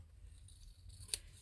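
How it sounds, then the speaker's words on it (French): Scissors cutting fabric for sewing, one quick, crisp snip near the end of a quiet moment, close and faint. "je vais la couper"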